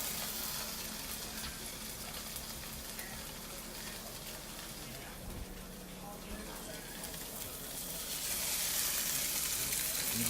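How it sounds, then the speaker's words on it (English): Seasoned bourbon salmon sizzles in a hot pan, giving a quiet, continuous frying hiss that grows somewhat louder toward the end. "You want to let it sizzle."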